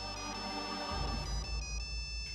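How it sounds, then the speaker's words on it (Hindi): A mobile phone plays its melodic electronic ringtone, a bright repeating tune that rings alone at moderate volume as a low hum drops away partway through. "किसका फोन है?"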